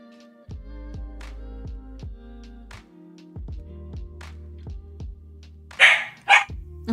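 A neighbours' dog barks from behind a door, a short pair of loud barks near the end over a steady, rhythmic tonal background.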